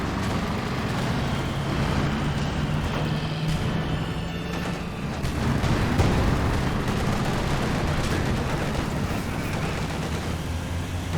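A heavy mortar barrage in the video game Company of Heroes 2 rumbles on as a continuous dense wash of explosions and distant firing, with no voices heard.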